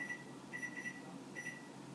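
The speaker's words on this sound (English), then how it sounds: "And I'm going to set a timer for 15 minutes here." Kitchen timer being set while tomato sauce simmers, giving short high electronic beeps in small clusters over steady room hiss.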